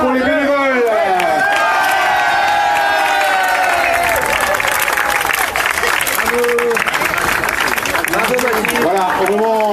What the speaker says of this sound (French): vos applaudissements pour les bénévoles.